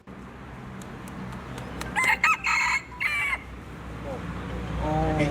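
A rooster on Doi Inthanon, a mountain in Thailand, crows in short, high-pitched bursts. Several close crows come in a row and rise clearly above steady background noise.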